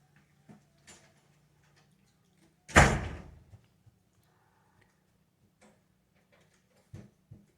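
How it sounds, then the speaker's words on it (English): A room door shuts with a single dull thud at moderate distance, amid an otherwise quiet indoor space with a few faint ticks and knocks before and after. "Hey guys, close the door."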